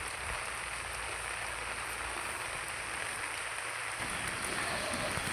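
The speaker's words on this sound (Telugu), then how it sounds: "ఈరోజు మా దగ్గర అయితే వర్షం పడుతుంది." Steady rain falls in a home garden among tomato plants, dragon fruit seedlings, and fig and date trees, a continuous even hiss throughout with no voices.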